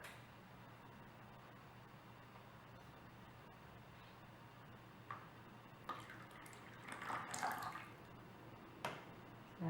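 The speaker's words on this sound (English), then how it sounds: "I am going to go ahead and add my coconut milk" Coconut milk is poured into a small batch of soap mixture with shea and silk: a faint, low trickling and splashing that grows into a few louder watery bursts toward the end.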